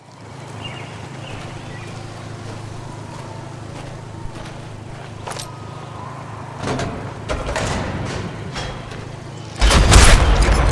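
Cannon fire in Sniper Elite 4 near a bridge, heard as scattered muffled thuds over a low hum, building to a loud, sharp blast near the end.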